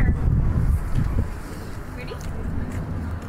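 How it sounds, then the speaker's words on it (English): Gusty wind buffets the microphone with a deep, rumbling roar, and voices are faintly audible underneath. "Oh, it's windy."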